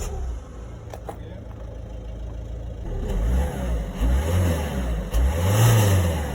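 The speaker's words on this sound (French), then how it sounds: "T'as pu entendre le bruit de ma Peugeot 207 d'origine" A stock Peugeot 207 1.6 HDi diesel engine revs up and down in a few rising swells, loud and close, after a quieter idle at the start.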